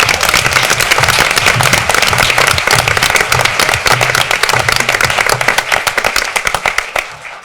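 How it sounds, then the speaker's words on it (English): A board of education meeting audience applauds its high school football players with loud, dense clapping from many hands, sharp and close, holding steady before thinning into scattered claps at the end. "Let's hear it for our football players."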